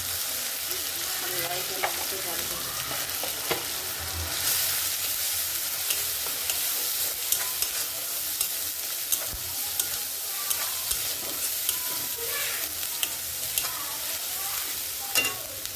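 Dried fish sizzles and crackles steadily in a pan as spices are added, with scattered stirring clicks and scrapes throughout and no one speaking.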